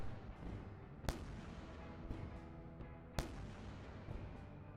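Enemy ship gunfire in the space game Wayward Terran Frontier: Zero Falls, with two sharp loud shots standing out over a dense, continuous rumbling bed of combat noise.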